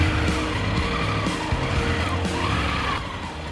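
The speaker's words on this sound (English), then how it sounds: "now do it front and back brake at the same time, and you'll stop even quicker" A motorcycle brakes hard using front and back brakes together, its engine roar dropping as the tyres scrub and skid briefly, loud and fairly close on an outdoor riding area.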